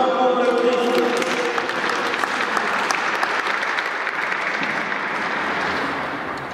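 A church congregation claps together in a full, dense burst of applause, with traces of singing or voices early on, slowly thinning toward the end.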